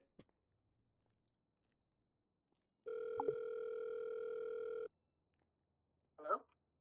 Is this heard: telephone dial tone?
yes